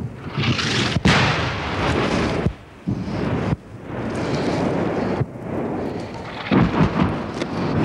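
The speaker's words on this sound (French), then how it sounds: "Je disais justement que l'artillerie française ne réagissait pas vite aujourd'hui." Distant French artillery fire during the Algerian War rumbles in several long, booming rolls, each heavy report swelling and fading outdoors with wind noise between.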